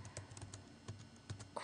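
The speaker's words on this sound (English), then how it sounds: "You'll simply go to your browser bar up top and type in" Typing a web address on a computer keyboard: a quick, irregular run of soft key clicks, close and fairly quiet, with no voices.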